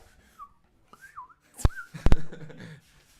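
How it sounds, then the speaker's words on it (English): Short wavering whistled notes, a few separate phrases, then a couple of sharp clicks and breathy sounds; fairly close and moderately loud. "I can't whistle like that."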